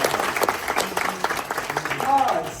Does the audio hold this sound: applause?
yes